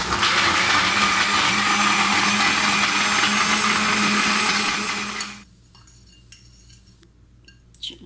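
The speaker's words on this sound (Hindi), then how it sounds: "और इसमें डालूँगी आइस और इसे अच्छे तरीके से ग्राइंड कर दूँगी" An electric blender grinds a date and almond shake with milk and ice, a loud steady whir with rattling for about five seconds before it stops, leaving faint clinks and quiet room sound.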